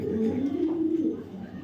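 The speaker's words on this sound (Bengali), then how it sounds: "আর একটা রেস্তার কবুতর মশাল্লাহ" A racer pigeon coos nearby in one sustained, throaty, rolling call that fades out toward the end.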